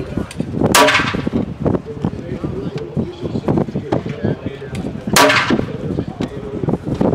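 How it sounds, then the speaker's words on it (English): A Benelli SBE3 28-gauge shotgun fires at a Ducks Unlimited Expo, with two sharp, loud reports spaced several seconds apart over steady crowd noise and nearby talking. "That was five shots."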